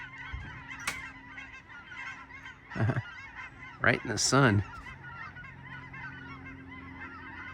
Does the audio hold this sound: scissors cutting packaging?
no